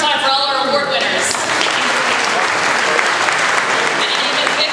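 Audience applause for 2017 scholarship award winners, steady and full for the whole stretch, with a sustained tone lingering beneath the clapping early on.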